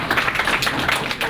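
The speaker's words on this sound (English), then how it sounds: "if you guys can have an applause for this guy" Audience applause at a Hive53 startup event, a short burst of close, lively hand clapping from a small crowd, continuous for about a second.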